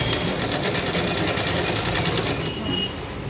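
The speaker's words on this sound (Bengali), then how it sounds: "এইভাবে সেলাই দিয়ে যাচ্ছি।" A sewing machine runs steadily and close by while stitching a collar onto a kurta (panjabi/churidar top), with a fast, even mechanical chatter that stops near the end and leaves a quieter hum.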